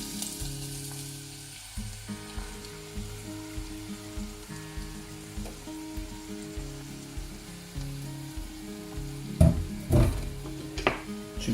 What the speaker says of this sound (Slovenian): Čebulo pražimo, da nam rahlo zlato porumeni.